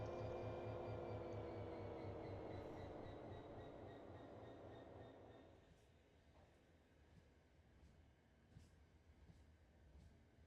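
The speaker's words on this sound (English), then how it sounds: "Here's like the thump. So there's some flats in it, which you like." A rake of ARobinson JGA-N aggregate wagons on the North Kent Line in Train Simulator Classic rumbles along with a fading drone, then repeated soft thumps from wheel flats.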